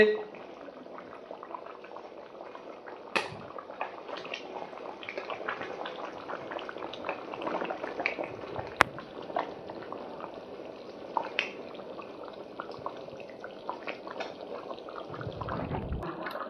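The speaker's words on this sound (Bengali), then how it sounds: "বন্ধুরা আলুর দম টকবক করে ফুটছে" Potato curry (aloo dum) with sugar stirred in bubbles steadily in a pot on a home stove, a soft continuous simmer with occasional pops and faint background voices throughout.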